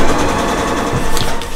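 A sewing machine stitching a seam through paper-pieced fabric layers for foundation paper piecing, a loud, close, rapid mechanical rattle running throughout.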